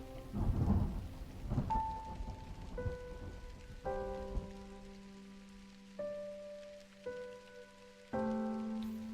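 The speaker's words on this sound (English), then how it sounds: "In a storm of all things." A thunderstorm with rain plays from a screen, with soft patter and a low rumble early on, then gives way to sustained piano-like musical tones that dominate the rest.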